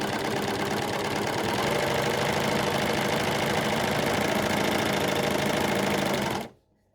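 A sewing machine stitches a seam in a steady, fast, continuous mechanical whir that holds loud and even for over six seconds, then stops abruptly and leaves near silence.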